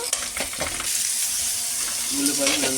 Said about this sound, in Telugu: బాగా ఫ్రై చేయాలి, మాడకుండా కలుపుతూ ఉండాలి.